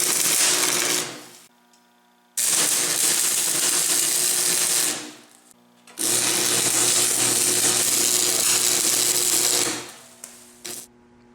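Stick welding a long bead on steel plate with welding rods: loud, crackling, hissing arcs in three sustained runs of a few seconds each, separated by short quiet pauses where the rod is lifted.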